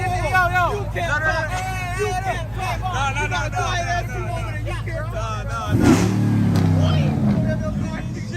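A Dodge Durango SRT 392 V8 rumbles in low idle under lively chatter and shouting from a nearby crowd, then flares into a sharp, loud rev near the end.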